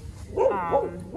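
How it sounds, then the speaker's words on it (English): Dogs bark indoors, close by, with two or three quick yappy barks in a row, heard alone without talk. "Sorry about the dogs."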